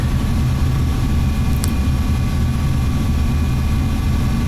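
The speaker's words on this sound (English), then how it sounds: "I'm now increasing the throttle and I'm going to climb" Jet engine of a C-101CC trainer aircraft in the DCS flight simulator, a loud steady low roar with a faint high whine, continuous throughout with no talk.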